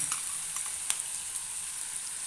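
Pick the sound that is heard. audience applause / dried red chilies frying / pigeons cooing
dried red chilies frying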